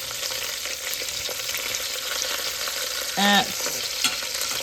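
A chuck roast sears in a hot pan, a steady close sizzle with crackling spatters running throughout, interrupted by a short scraping clatter near the end and one brief spoken word.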